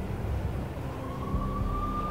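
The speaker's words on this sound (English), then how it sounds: "I could hear the sirens. Their wail was a crescendo." In the Max Payne game, a police siren wails faintly and rises in pitch over a low, dense rumble of background noise, with no one speaking.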